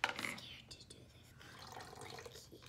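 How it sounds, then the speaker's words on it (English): Water poured out of a glass jar used as a homemade xylophone bar: a soft, hissy splashing trickle that runs steadily at low volume, with faint whispery noise on top. "Beautiful pouring."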